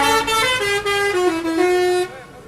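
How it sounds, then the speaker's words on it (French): Passing trucks sound loud, close, sustained air horns near a farmers' protest, a few overlapping blasts with brief dips before cutting off after about two seconds. "Ça, c'est le soutien de camions qui passent."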